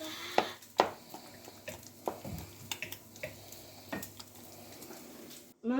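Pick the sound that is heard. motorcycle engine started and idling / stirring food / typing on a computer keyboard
stirring food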